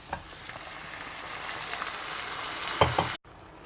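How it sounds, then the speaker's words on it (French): Tomatoes going into a pan of frying, lightly caramelised onions for a Moroccan charmoula sardine sauce: a steady close sizzle that swells with a couple of sharp splashy hits near the end, then cuts off abruptly, no voices. "Une fois nos oignons cuits et légèrement caramélisés, on va mettre nos tomates."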